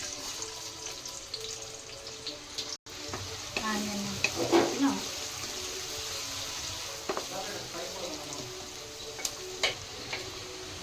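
Onions frying in a hot kadai for a cashew chicken masala curry, a steady low sizzle running throughout with a few louder crackles and stirring clinks partway through.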